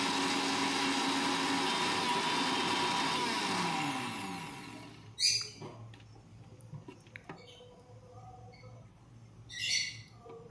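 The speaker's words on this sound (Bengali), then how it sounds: "শুকনো লঙ্কা, ধনে, আস্ত জিরে আর কসুরি মেথি ড্রাই রোস্ট করে ব্লেন্ড করে নেব" An electric blender grinds dry-roasted dried red chilli, coriander, whole cumin and kasuri methi with a loud, steady whir for about five seconds, then winds down, followed by scattered clicks and clatter.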